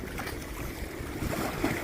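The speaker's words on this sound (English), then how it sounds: "Look at these waves coming up here short." River waves driven by high water at Sainte-Anne-de-Bellevue wash and splash against the shore, a steady broadband rush with wind noise, moderately close and free of voices.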